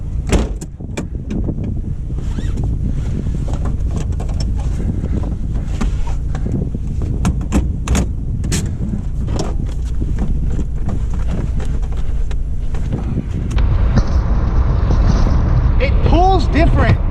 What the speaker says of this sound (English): Well, let's keep driving. Let's put the top down.